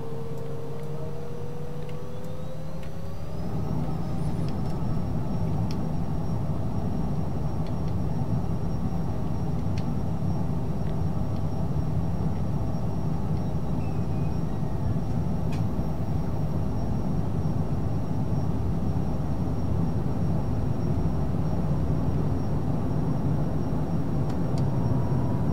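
A Working Title CJ4 business jet in a flight simulator game spools up to takeoff thrust, a steady roaring engine rumble that swells after a few seconds and holds loud and even, with faint ticking clicks scattered through.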